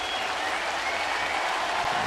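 A large baseball stadium crowd of about 22,000 at a Blue Jays game applauds steadily, a dense, even wash of clapping with no break.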